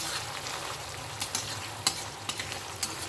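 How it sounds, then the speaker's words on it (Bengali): Sliced onions fry in hot oil with melting sugar for a pulao, a constant close crackling sizzle punctuated by a few sharp spatula scrapes and pops, with no talking. "যতক্ষণ না পেঁয়াজের গায়ে রং ধরছে ততক্ষণ আমরা এটাকে একটু ভেজে নেব।"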